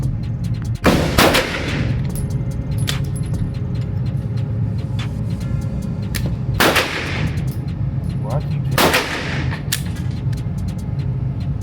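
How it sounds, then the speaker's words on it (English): Three loud, sharp gunshots from a gun loaded with a 32-round magazine ring out at a shooting range, spaced several seconds apart over steady outdoor background noise. "we're gonna get ahead and load up this 32 round mag and bust off a couple of shots"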